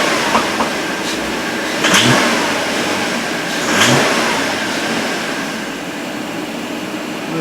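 A 2010 Audi Q5 engine, treated with intake valve and turbo cleaner, revs up twice in clear surges over a steady idle, with nobody talking.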